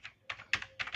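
Slow keystrokes on a computer keyboard during a stenography typing test, four separate bursts of clicks spaced unevenly, close and clear with no voices.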